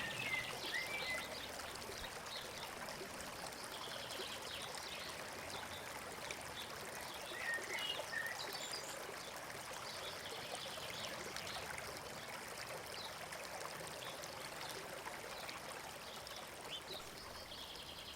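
A temperate freshwater stream flows steadily, with continuous trickling and babbling water close by and a few faint bird calls in the background.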